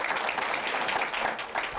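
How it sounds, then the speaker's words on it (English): Symposium audience applauds its immigration panelists, a full, even roll of many hands clapping at once, steady throughout with no voices on top. "Let's give our panelists a big round of applause."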